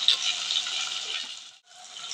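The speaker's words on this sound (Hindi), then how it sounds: "थोड़ा सा पानी इसमें डाल के इसको हम मिक्स कर लेते हैं" Water poured into a spice mixture of cumin powder, timur and gandraini for an Uttarakhand gaderi vegetable dish, a steady close splashing trickle that stops briefly then resumes, with no talking.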